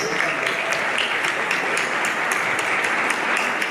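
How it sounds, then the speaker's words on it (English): A gala crowd at the Los Angeles FAST Armenian science foundation event breaks into loud, sustained applause, dense clapping with a few sharper individual claps standing out, steady throughout. "a big round of applause for you tonight."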